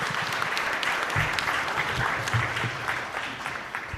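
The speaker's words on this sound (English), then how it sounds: "But first, a round of applause." Audience applause at a climate and security conference, a steady round of clapping from a crowd that fills the clip at an even level with low murmuring under it.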